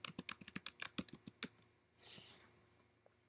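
Fingers type a user ID and password on a computer keyboard in a quiet room, a quick run of crisp, close key clicks followed by a short soft rustle and a final click.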